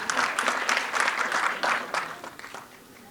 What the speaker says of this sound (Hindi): एक बार शिल्पा जी के लिए जोरदार तालियां हो जाएं प्लीज